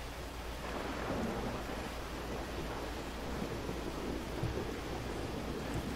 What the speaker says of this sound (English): Boy, it is certainly thundering out.